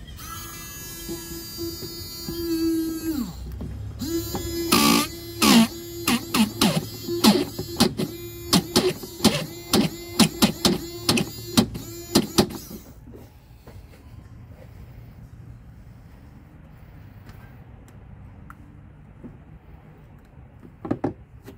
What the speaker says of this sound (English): I'll press this little, see, the cute little motor works.